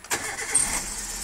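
A Hyundai Amica GSi small hatchback fires up: a brief starter crank that catches into a settling engine, close and short, with no voices.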